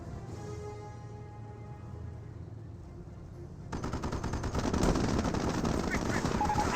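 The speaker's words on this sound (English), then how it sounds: "And the Panzer Grenadier squad is receiving a bit of fire." Machine-gun fire raking a Panzer Grenadier squad in the WWII strategy game Company of Heroes, starting quietly under game ambience and then erupting into a loud, sustained barrage.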